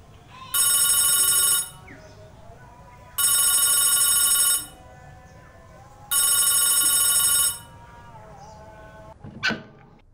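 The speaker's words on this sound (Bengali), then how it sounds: "দিদি তোমার ফোন।" A telephone rings indoors in a home, three loud, long electronic bell bursts evenly spaced about three seconds apart, followed by a brief sharp knock near the end.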